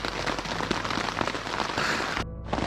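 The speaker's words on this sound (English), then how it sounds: "Alright, so it is raining big time" Heavy rain pours steadily at a campsite at F.D.R. State Park, a dense, close hiss and patter on surfaces that continues without a break, with a brief change in texture near the end.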